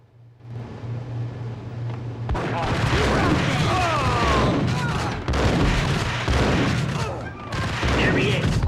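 Gunshots in the PS2 video game Max Payne, a loud, dense fusillade of shots and booming impacts that continues over several seconds with brief lulls, with some voices mixed in.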